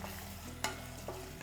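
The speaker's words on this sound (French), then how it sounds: "il cuit juste avec le restant de la chaleur, l'ail et les capres" Garlic and capers sizzle quietly in olive oil in a hot pan cooling off the heat, a soft steady frying hiss broken by a few brief stirring scrapes.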